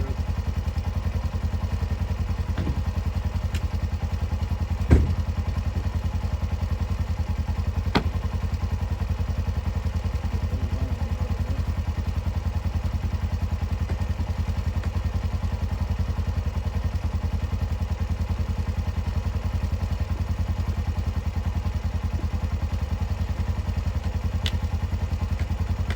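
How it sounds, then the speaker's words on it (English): A tractor truck engine runs at a steady low idle, rumbling continuously throughout, with a couple of brief clunks and thuds over the drone. "it is a tractor truck."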